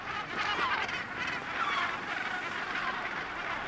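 A colony of boobies calls on Cocos Island in the Pacific, a dense, continuous chorus of honking, overlapping cries set against steady outdoor background noise.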